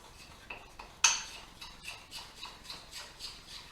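A spoon clinks and scrapes against a bowl while mixing pretzel seasoning, a sharp knock followed by a series of light rhythmic taps and scrapes, close and fairly quiet.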